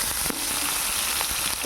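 Fish curry ingredients with plenty of green chillies frying in hot oil, a steady close sizzle with a few soft scrapes as they are stirred.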